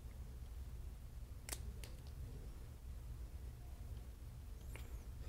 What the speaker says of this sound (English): cut these wires here.